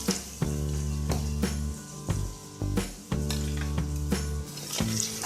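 A pinch of asafoetida powder heats in oil in a pan, giving a close hissing sizzle over a steady low hum, broken by several sharp clattering stirs, with no voices.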